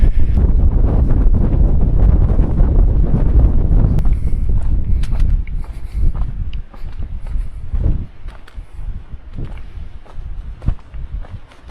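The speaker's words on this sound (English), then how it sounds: "Nice wind." Strong wind gusts buffet the microphone on an exposed hiking trail on the island of La Gomera, loud and rumbling at first, then easing into intermittent softer gusts and scuffing sounds.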